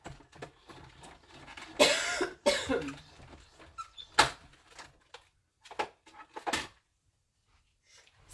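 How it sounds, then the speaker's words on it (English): Several bursts of coughing in a quiet indoor room, a few harsh close coughs clustered early, then scattered throat-clearing and softer coughs with brief silences between. "Sorry for the coughing."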